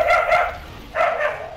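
A dog gives two short, clear barks with a pause between them, heard close and fairly loud.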